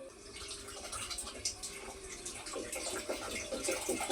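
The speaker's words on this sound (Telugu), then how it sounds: "ఇప్పుడు బియ్యంలో నీళ్ళేసి కడుక్కుంటా" Rice being washed in water in a home kitchen, quiet sloshing and trickling with small splashes, continuous and close but faint.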